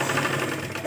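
A sewing machine runs continuously, close and fairly loud, with a dense mechanical whir as it double-stitches the cup seam of a blouse.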